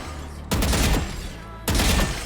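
Two loud bursts of rapid gunfire from the video game Valorant, each a dense rattling volley, the second coming about a second after the first dies down.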